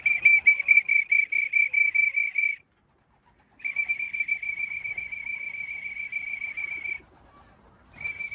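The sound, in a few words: whistle blown to call racing pigeons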